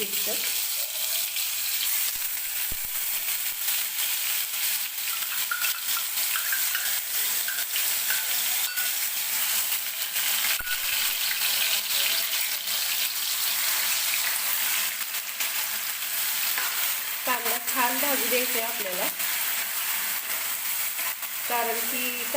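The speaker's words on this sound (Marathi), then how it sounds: "तर तेल गरम झालं बघा कांद्याची ग्रेव्ही आपण त्यात टाकून घेऊया" Raw onion paste hits hot oil for a chicken gravy, a loud continuous sizzle and crackle with occasional stirring, and a voice briefly speaks near the end.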